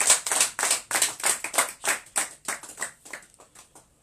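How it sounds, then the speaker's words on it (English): Hands clapping in a slow, rhythmic beat at a church outreach meeting, about a dozen sharp, evenly spaced claps that grow fainter and end near the close, with no talk over them. "Let's clap hands for him."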